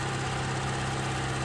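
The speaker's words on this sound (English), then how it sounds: "the engine is running" A sailboat's engine idles steadily with a low, even rumble and continuous vibration, while its water pump is not drawing water.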